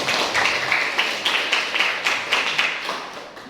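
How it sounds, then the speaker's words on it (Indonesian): Applause for the speakers at a group discussion session comes as a short round of rhythmic, fairly even claps from a small group, close and steady, briefly fading at the end. "Kita tepuk tangan sekali lagi untuk para pemateri."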